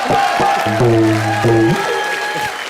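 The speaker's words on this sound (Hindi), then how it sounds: "राजपाल यादव के लिए जोरदार तालियां" A comedy show's studio audience claps loudly for a guest actor, with crowd cheering mixed in. Sustained musical tones play over the continuous applause, which fades slightly toward the end.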